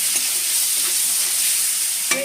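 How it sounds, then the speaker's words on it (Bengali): Tomato and spice masala frying in a pan, a dense continuous sizzle close up with a couple of utensil clinks near the end, no voices. "টমাটমটা একটু ভেজে নিচ্ছি মশলাটা"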